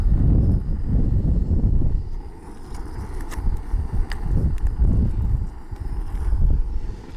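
Gusty wind buffets the microphone outdoors beside a camp stove during off-road cooking, with low rumbling surges rising and falling across the clip and no talk.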